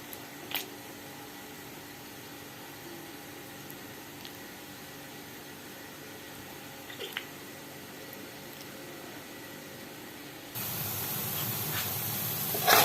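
Chopped onions sizzle in a frying pan as part of a home-cooked eggplant dish. A soft, steady hiss runs for about ten seconds, then swells into a louder, fuller frying crackle toward the end.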